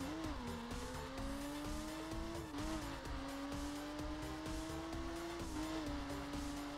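A car engine in the racing video game The Crew accelerates and holds a steady droning whine that rises gradually in pitch. It is loud and continuous, with brief dips as gears shift.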